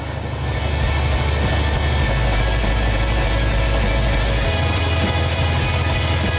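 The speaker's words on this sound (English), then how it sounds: "It was really good to hear the engine run." A 1971 Dodge Charger with a 440 Six Pack V8 runs under its own power, a loud, steady, deep rumbling idle with a slight lift in revs partway through, close by and without speech.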